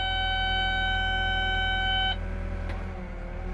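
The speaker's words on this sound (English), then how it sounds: "I wait for the buzzer to go off." Cabin buzzer on a Cat 315 GC excavator beeps rapidly and steadily for about two seconds over the idling engine, then stops, leaving the engine's low rumble.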